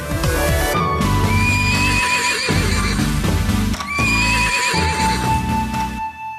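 A horse whinnies loudly and repeatedly in long shrill bursts while hooves beat a steady clip-clop underneath, close up and with no talking.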